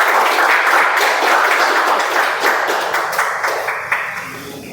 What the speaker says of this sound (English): with a good applause.